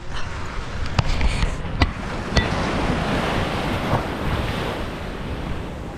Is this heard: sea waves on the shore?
yes